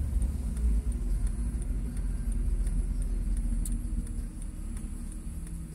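From inside a Honda Civic G8, low engine and road rumble hold steady as the car pulls away gently in traffic, fairly quiet, with faint ticking and rattles over it and no speech.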